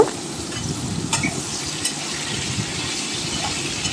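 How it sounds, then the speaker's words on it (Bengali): Boiled young jackfruit fries in mustard oil in a wok, a steady close crackling sizzle with faint stirring scrapes and no voices. "সেটাকে ভেজে নেব ভালো করে বেশ লাল করে ভেজে নেব"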